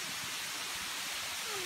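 Moss Glen Falls in Vermont pours as a dense, steady rush of falling water, loud and continuous with no pauses.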